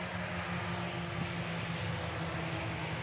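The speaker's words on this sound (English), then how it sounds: "RyanAir just spooling up now." Ryanair jet airliner engines spool up for departure at Manchester Airport, a steady, faint distant roar and whine that holds evenly throughout with no pauses.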